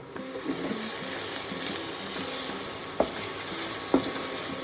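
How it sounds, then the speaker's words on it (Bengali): Marinated chicken fries in hot oil in a wok with a steady bright sizzle, broken by a couple of sharp utensil knocks near the end; no talk. "এটা গরম হয়ে গেলে এই ম্যারিনেটেড চিকেনগুলো দিয়ে ভেজে নেবো"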